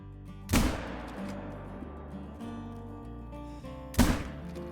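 Two sharp, loud rifle shots from a .243 hunting rifle fired at red deer outdoors, spaced about three and a half seconds apart, each a booming crack with a short decaying tail over low background noise.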